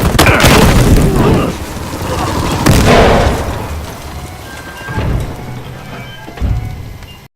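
A grenade explodes in Battlefield Hardline, a loud boom followed by debris and rumbling, with fainter thuds afterward; game voices speak briefly.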